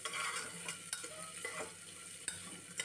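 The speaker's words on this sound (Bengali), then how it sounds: "এবার এই আদাটাকে একটু নাড়াচাড়া করে নেব ঘিয়ের সাথে, যাতে আদার কাঁচা গন্ধটা চলে যায়" Grated ginger stirred in hot ghee for a pea pulao, a soft steady sizzle with scraping spoon strokes and a few sharper clinks, close and alone without talk.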